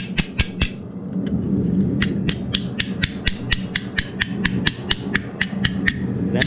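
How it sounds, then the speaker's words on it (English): A hammer dishes metal on an anvil in a steady rhythm of sharp, ringing blows, close and loud, with a low rumbling hum behind. "an anvil and a hammer, getting everything dished out"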